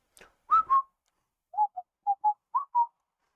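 Someone whistles a few bars of "Always Look on the Bright Side of Life" with pursed lips, clear and close: two longer notes, a pause, then six short bright notes in pairs, with no one talking.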